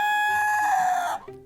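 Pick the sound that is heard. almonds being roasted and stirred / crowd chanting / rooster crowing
rooster crowing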